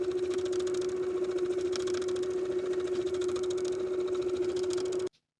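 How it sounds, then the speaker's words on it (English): A sewing machine runs steadily, stitching around a folded skirt hem close to the finishing stitches; a loud, continuous hum with a strong even tone and rapid needle rhythm, stopping abruptly at the end. "Now I'll stitch close to those finishing stitches all the way around."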